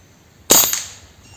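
A single sharp crack from a PCP (pre-charged pneumatic) air rifle, close and loud with a quick hissing decay, alone without talk.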